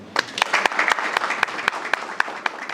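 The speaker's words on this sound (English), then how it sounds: "let's give another huge round of applause." Audience applause at a cybersecurity awareness launch event: steady, moderately loud clapping from a modest crowd with distinct sharp individual claps, and no talking.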